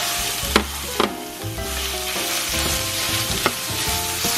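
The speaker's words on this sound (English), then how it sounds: "Okay, so after 5 minutes, I'm ready to put our ground pork." Ground pork for arroz a la Cubana fries loudly in a pan, a dense close sizzle with a few scraping clicks and knocks as it is stirred, no voices.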